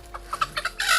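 A chicken clucks in a quick series of short, agitated bursts, rising into a louder, longer squawk at the end; close and clear with no talking.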